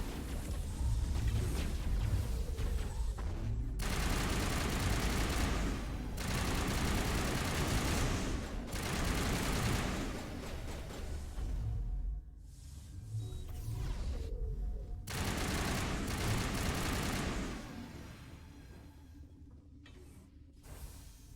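Gunfire rattles through a Mass Effect battle against Geth: long stretches of loud, dense rapid shooting and mechanical clatter, broken by short pauses, with a quieter tail near the end.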